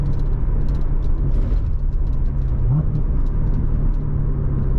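Chevrolet Corvette C7 Z06 engine accelerating at part throttle, a steady loud low drone from inside the car that holds and climbs slightly across the whole stretch with no talk over it.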